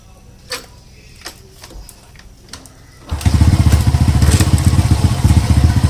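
A motorcycle with no battery fitted is started: a few quiet clicks and thumps, then the engine catches and settles into a loud, steady, close idle with a fast, even putter.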